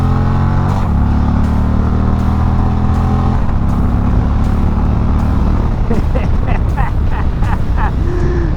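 An Indian Chieftain air-cooled bagger motorcycle accelerates hard, its loud engine roar climbing through gears with shifts and rising pitch, close and continuous.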